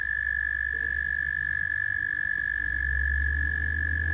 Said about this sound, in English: Here's 2 examples, a marsh frog and a cane toad.